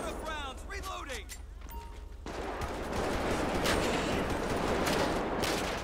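Rapid gunfire in the police game LSPDFR, bursts of shots crackling close and loud with someone talking at the start and over the firing.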